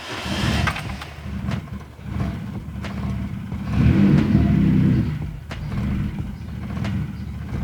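A VW 20V car engine on Speeduino, lacking an idle valve, revs under throttle blips with a surging, bouncy idle that swells loudest near the middle; heard close and steady throughout.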